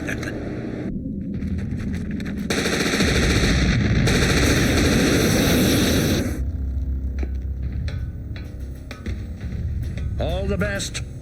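Automatic gunfire in a Blake and Mortimer animated scene, rapid bursts over a loud engine-like roar and hum, with voices heard around the shooting.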